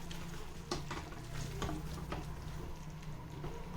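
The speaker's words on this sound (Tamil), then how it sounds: "இதை வந்து நம்ம இதில் சேர்த்து ஒரு ரெண்டு நிமிஷம் கொதிக்க விடலாம்" A thick parwal (pointed gourd) gravy in Mughal style bubbles and sizzles steadily in a pan while a spoon stirs and scrapes through it now and then.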